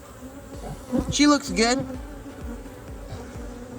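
Honeybees buzzing around an open hive during a beekeeper's inspection, a low continuous drone with a few bees passing close, while someone speaks briefly over it.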